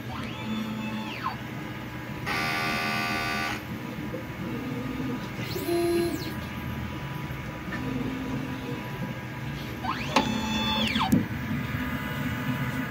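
A DTF printer runs a nozzle test after a head clean, with mechanical whirring, a buzzy burst of motor noise, and print-head carriage sweeps rising and falling in pitch, close and steady with no talk.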